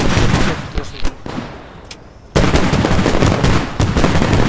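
Tank cannon rounds and heavy gunfire boom in an armored combat video game, with several sharp loud bursts, a brief quieter lull, then a sustained barrage of blasts and rattling fire.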